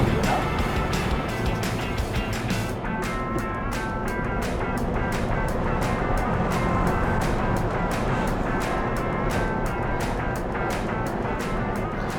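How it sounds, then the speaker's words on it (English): A generator runs inside a 1963 Buick Electra hybrid electric conversion, a continuous mechanical drone with a rapid rhythmic pulsing that holds steady and loud throughout. "It's a generator. It sounds kind of freaky"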